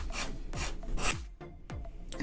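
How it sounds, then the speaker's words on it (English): Sandpaper rubs over a wooden DIY farmhouse decor piece in steady, rasping strokes, close and alone, with about five distinct scraping passes. "Finished the sanding,"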